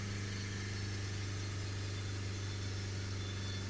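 A Honda Civic 2.2 diesel engine with a DPF warning light runs steadily around 3,000 RPM at a constant hum, a close, continuous drone with no change in pitch or loudness.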